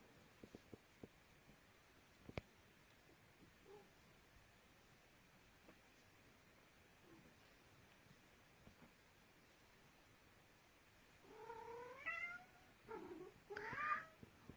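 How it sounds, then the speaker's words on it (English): A house cat interrupts quietly: a few faint clicks and rustles in a hushed room, then two clear, close, rising meows near the end, a couple of seconds apart, with no talking. "Please excuse the cat, he just wants to say hello."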